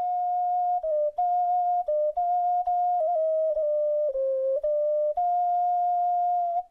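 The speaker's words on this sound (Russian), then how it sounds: "Под словом «свистулька» обычно понимают любой свистящий инструмент." A clay ocarina made in Borovsk plays a pure, steady whistling melody up close, with short breaks between the held notes and no voices.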